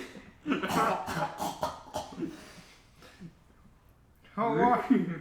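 A person's voice imitates a cartoon dog coughing and gagging, with several harsh, rhythmic coughs followed by a pause and then a louder gagging burst. The sound is close and spoken-voice quality.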